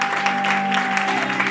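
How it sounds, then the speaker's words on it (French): Audience at a gospel concert applauding and cheering steadily, a dense, sustained wash of clapping with a held tone running underneath. "Je veux que déjà cela se précède par des acclamations."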